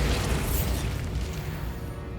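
A Bombarda spell detonates in Hogwarts Legacy, a loud, dense blast of low rumbling booms and crackling debris that sustains for about two seconds with no break.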